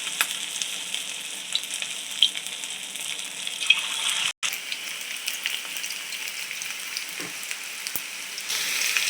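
Chicken pieces frying in hot oil, a continuous bright sizzle with small crackles and pops, one brief cutout midway, no voices.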